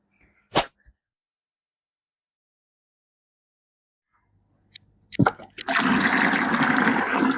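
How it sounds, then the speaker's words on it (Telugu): Near silence with a couple of faint clicks, then a sudden loud rush of water poured out of buckets from a large aquarium, splashing continuously to the end. "ఇప్పుడు ఈ బకెట్లు నింపి ఇందులో ఉన్న వాటర్ అంతా పారబోసుకోవాలి"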